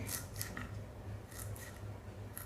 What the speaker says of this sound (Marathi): मी आता आपली अशी ह्या सुरीनी कापते